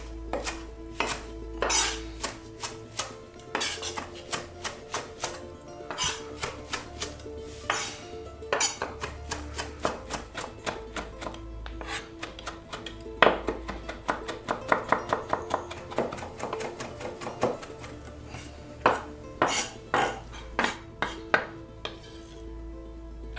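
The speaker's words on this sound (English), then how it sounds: "I'll chop that all together." Fresh parsley and oregano chopped together for chimichurri, a knife striking the board in rapid, uneven runs of sharp, loud knocks with a few clinks, no talking.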